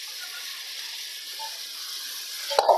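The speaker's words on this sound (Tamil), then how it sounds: "அதுக்காக எண்ணெயிலே மசாலாவை வந்து வதக்கிடுங்க" Masala sizzling in hot oil while cooking seeraga samba rice biryani, a steady soft hiss of frying, ending with a brief clatter of stirring near the end.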